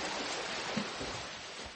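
Swimmers in a triathlon churning through water, a continuous rushing splash with a few louder slaps near the middle, steady and fairly close with no voices.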